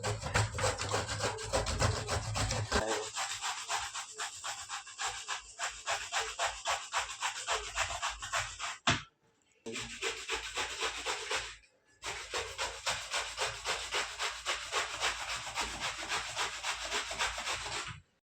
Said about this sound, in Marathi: तर दुधी भोपळा झालाय किसून